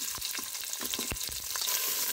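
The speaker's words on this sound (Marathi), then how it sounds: "कांदा ही चांगला तेलात भाजून घ्यायचा." Sliced onion with cumin seeds frying in hot oil, a close, dense sizzle that holds steady throughout with light stirring clicks and taps; no talking.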